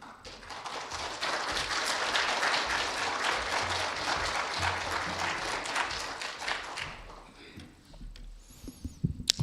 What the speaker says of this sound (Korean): 따뜻하게 박수로 환영해 주시면 감사하겠습니다